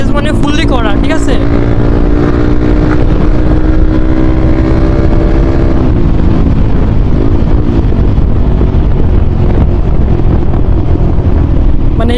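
A motorcycle fitted with an SC Project exhaust revs loudly and close, its engine note climbing then settling into a steady rumble, with wind buffeting the microphone and a voice talking over it.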